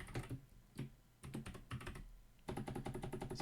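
Someone types on a computer keyboard nearby in several bursts of quick, clicky keystrokes separated by short pauses, ending in a denser run of keys.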